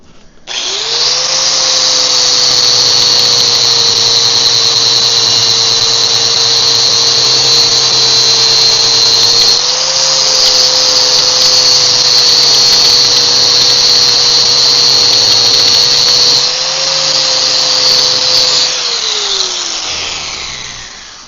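A power tool grinds down a metal part during a powder coating oven build, a loud steady high-pitched whine running continuously for about twenty seconds, with brief dips in pitch as pressure changes.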